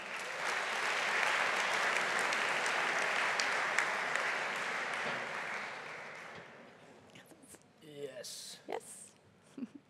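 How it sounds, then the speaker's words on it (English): Audience applause at a pitch competition event, loud and sustained dense clapping for several seconds that fades out, followed by a few scattered claps and voices. "can we have a big round of applause for Jaap van de from Graduate Entrepreneur?"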